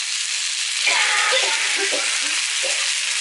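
Pork loins fry in a hot pan with a steady, loud sizzle throughout, marked by scattered pops and crackles as the meat browns, with no voices.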